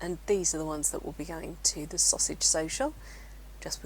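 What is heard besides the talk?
None of the usual background noises is heard.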